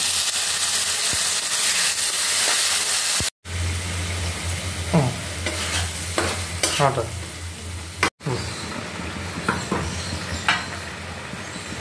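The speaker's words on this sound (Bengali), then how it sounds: "এবার দিয়ে দিচ্ছি পিষে রাখা মশলাটা।" Potato pieces and ground spice paste fry in a pan for a potato curry, a loud continuous sizzle with intermittent stirring scrapes, briefly cutting out twice, with no voices.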